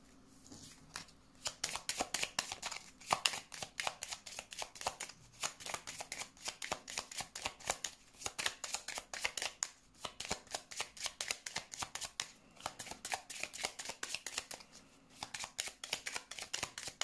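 Tarot cards are shuffled and riffled by hand in quick, crisp bursts of papery flicks, fairly close and steady across the whole stretch, broken by a few short pauses, with no talking.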